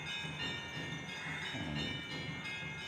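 A temple bell rung steadily during an incense-waving ritual at a Shimga festival, its dense metallic clangor continuous and fairly close, with no talk over it.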